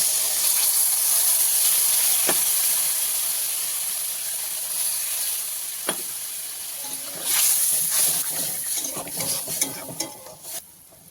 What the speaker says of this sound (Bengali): মশলাটা ঝোলটা ফুটে উঠেছে